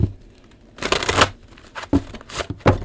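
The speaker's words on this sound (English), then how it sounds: "They want one more shuffle." Tarot cards being shuffled in a few quick riffling bursts, crisp papery flutters separated by brief pauses, close to the listener.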